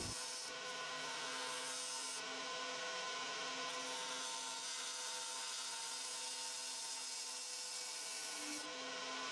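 A sharp gouge cuts into spinning maple on a wood lathe, giving a continuous, even hiss and scrape up close, steady for the whole stretch with only slight shifts.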